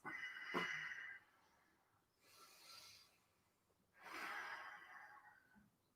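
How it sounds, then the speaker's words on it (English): Slow, deep breaths during a morning yoga session: a few soft, airy inhales and exhales spaced a couple of seconds apart, close and quiet. "Nice deep breaths."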